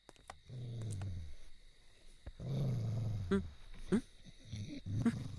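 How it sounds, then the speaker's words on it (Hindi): Dogs growl and snarl in low, rumbling bursts at a residence with security, two long growls followed by shorter barks and snarls, fairly close and loud. "इधर तो इंसान से ज्यादा कुत्ते हैं।"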